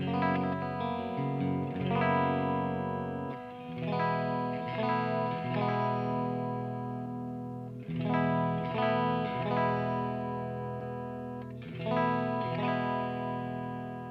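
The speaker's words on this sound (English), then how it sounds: "I'm going to turn the bright switch off again and turn it back on while I play" An electric guitar played clean through a Mezzabarba Trinity amp with all knobs at noon, its bright switch toggled off and on mid-playing; repeated ringing chords with sustained harmonics swell and decay in several phrases, loud and close, with no talking.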